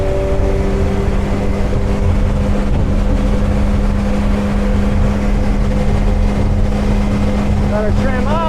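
A 2015 Rogue Marine Scrambler 20 boat runs at full throttle on a Yamaha 90 outboard, a loud, sustained engine roar with rushing water and wind, and a voice briefly breaking in near the end.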